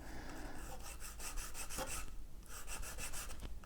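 A nylon washer being rubbed against sandpaper to reduce its diameter for a suspension upgrade: a steady, close rasping scrape in repeated back-and-forth strokes, with no voices.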